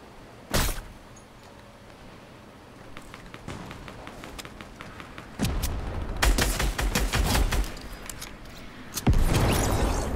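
Fortnite gunfire: an isolated loud shot, then sparse cracks, then clustered rapid bursts of shots with another sharp volley near the end, loud and close.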